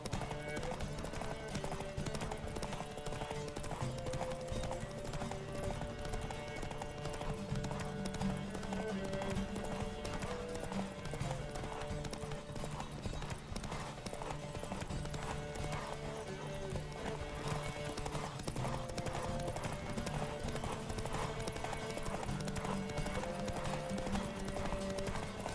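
Horses gallop in a race in The Witcher 3 video game, a steady rolling clip-clop of hooves with occasional whinnies, loud and continuous over a dense game music and ambience bed.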